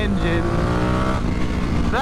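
Vyrus 985 4V C3 motorcycle engine with off fueling dropping its revs, a loud, rough, uneven grumble with harmonic bands sliding downward before a brief rising rev near the end.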